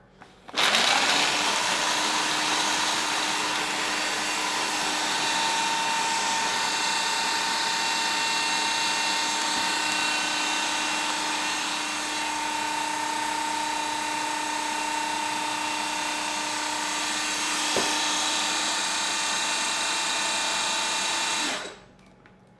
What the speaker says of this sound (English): I'll pour the pecans into the food processor